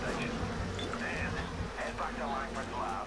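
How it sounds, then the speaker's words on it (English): Bee buzzing in Bioshock Remastered, a steady insect drone running through the whole stretch beneath game sounds and a low background hum, with brief voice-like chatter mixed in. "The bee is coming out."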